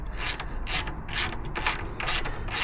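A ratchet wrench clicks in quick bursts of about six strokes while undoing parts on a Harley-Davidson motorcycle, close and clear over a low background hum.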